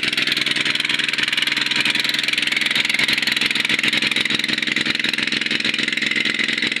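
A steady, droning engine runs continuously at close range, a rough mechanical idle with a dense rattling texture and no pauses.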